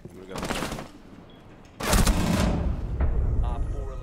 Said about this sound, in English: The Blackbeard's in the middle of the thing just shooting me